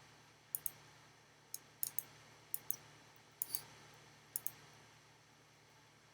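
A computer mouse clicks repeatedly, close and faint, with sharp single and double clicks at an irregular pace over a quiet background hum.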